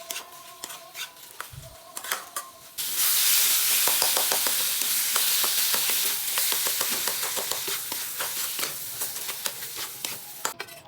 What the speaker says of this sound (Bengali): এবার ডিমটা দিয়ে ভালোভাবে নেড়ে চেড়ে একটু কষিয়ে নিন।